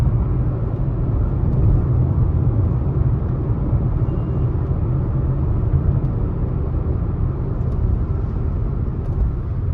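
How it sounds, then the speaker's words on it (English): A 2020 Honda City ZX CVT engine drones from inside the cabin in city traffic, a steady low rumble with road noise and no clear rise or fall. "That engine note was sweet"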